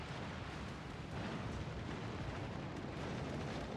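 Torpedo hits exploding on enemy ships in the naval battle game World of Warships, a dense, continuous roar of rumbling blasts that holds loud and steady throughout with no pauses.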